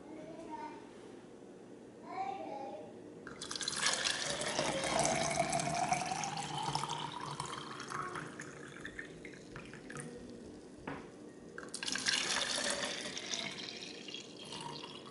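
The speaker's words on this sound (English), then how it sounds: "So what I'm going to do at this point is I am going to pour it into my clean" Homemade hummingbird nectar of sugar water splashes and trickles in bursts as it is poured into clean bottles, with a quiet voice talking in between pours.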